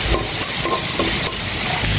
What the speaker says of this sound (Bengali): পেঁয়াজ কুচিটা এখন দিয়ে সুন্দর করে নেড়ে ছেড়ে একটু লাল লাল করে ভেজে নেব